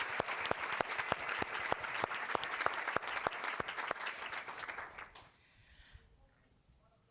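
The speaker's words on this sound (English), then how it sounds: "Let's give a round of applause for Professor Carbado." An audience at a law conference plenary applauds with sustained clapping from many people and a few sharp, close claps in front. The applause fades out after about five seconds into near silence.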